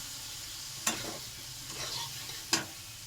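Boiled potatoes are stir-fried in a pan with a quiet, steady sizzle. Two sharp scraping strokes of the spatula cut through, one near the start and one near the end.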